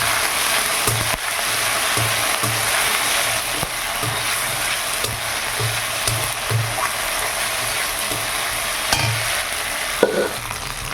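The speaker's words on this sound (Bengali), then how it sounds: "এখন মশলাটাকে খুব ভালো করে আমি কষিয়ে নেব।" A ground cumin and ginger spice paste fries in oil for a fig curry, hissing loudly and evenly up close while a spoon scrapes the pan in a loose, repeated rhythm.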